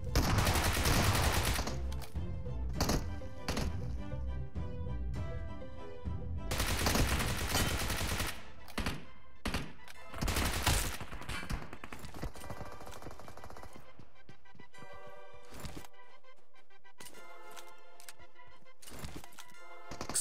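Bursts of rapid gunfire crack in and out, some long and dense, others short, with quieter gaps between volleys.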